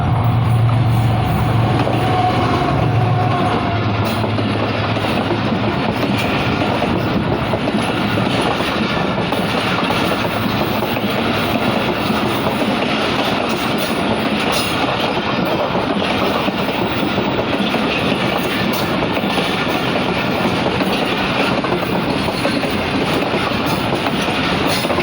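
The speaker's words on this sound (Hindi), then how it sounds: "अच्छी स्पीड के साथ समनाबाद से through pass 42 don Karakoram express." The 42 Down Karakoram Express of Pakistan Railway passes straight through Samanabad station at speed. A loud, close, continuous roar of rumbling wheels and clattering carriages lasts the whole time, with faint squeals mixed in.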